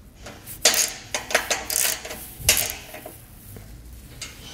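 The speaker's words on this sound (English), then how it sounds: "I'm gonna go back down and fully tighten all the bolts" Metal clinks and ratcheting taps from bolts being tightened on a Malone EcoLight Sport trailer frame, several sharp close clicks in an uneven rhythm.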